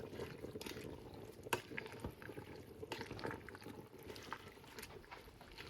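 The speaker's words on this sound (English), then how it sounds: "Stir all this stuff around." Collard greens with vinegar, seasonings and red pepper flakes being stirred in a pot: a steady wet, bubbling swish with scattered soft clicks and scrapes, close and continuous with no talking.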